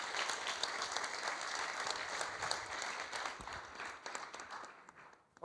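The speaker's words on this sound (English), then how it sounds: "A big applause." Audience applause fills the room at an awards ceremony, a broad, sustained clapping from a large crowd that holds steady for several seconds and tapers slightly toward the end.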